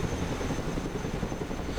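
A Chinook transport helicopter in the video game Broken Arrow gives a steady, dense rotor and engine rumble that holds evenly throughout, with no voices.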